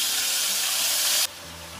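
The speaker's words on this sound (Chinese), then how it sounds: "再把这个腌好的鸡翅我们下锅给它煎一下。" Marinated chicken wings hitting a small non-stick frying pan over low heat, a loud steady hiss of sizzling oil that drops sharply in volume after about a second.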